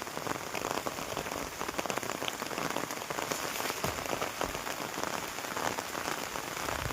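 Steady rain falls across waterlogged farm fields after hours of downpour, a dense continuous hiss of drops hitting water and ground, even and close, with no voices.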